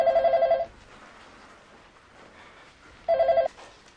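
A telephone rings twice in two short bursts, a long pause of quiet between them, fairly close and clear.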